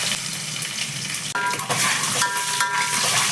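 Curry leaves and dried red chillies sizzle loudly in hot oil for tempering, a steady crackling hiss that briefly drops and then surges again as more goes into the pan, with no talking.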